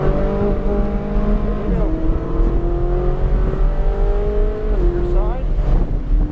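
A Ferrari's engine drones and climbs in pitch as throttle is rolled in, a loud steady mechanical roar with shifting tones, while someone speaks briefly over it.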